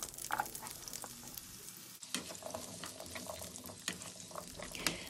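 Baby potatoes stirred in a pan of olive oil and butter, with a faint sizzle, scraping utensil strokes and a few clinks, close but quiet.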